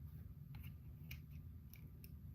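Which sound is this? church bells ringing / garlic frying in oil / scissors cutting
scissors cutting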